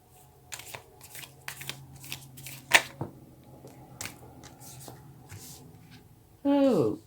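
Tarot cards are shuffled in a series of soft papery riffles and flicks, close and fairly quiet, ending with a short louder burst.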